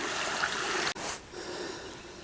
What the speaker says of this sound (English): That brook's making a nice little sound working its way through that log and those rocks.